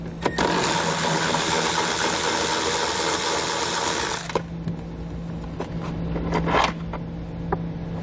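A ratchet with a 10 millimeter socket loosens bolts on a 2017 Infiniti Q. It whirs steadily and loudly for about four seconds, stops abruptly, and is followed by a few scattered clicks and light handling noises.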